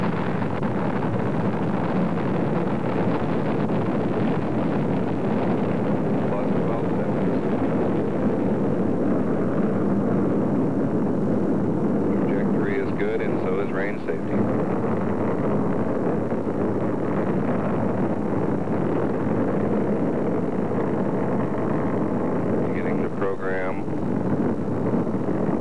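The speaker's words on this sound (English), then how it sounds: "And we've got a liftoff, and it looks like 46 seconds after the hour." An Atlas/Agena 10 rocket lifting off, a sustained low rumbling roar that holds steady throughout, heard under a broadcast commentator's voice.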